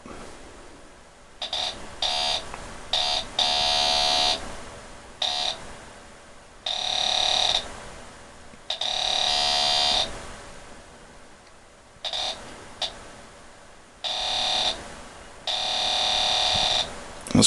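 A homemade Pirate pulse-induction metal detector sounds a steady electronic buzz in repeated on-off bursts as a metal washer is passed near the coil. The tones are loud and close, each lasting from under a second to about two seconds.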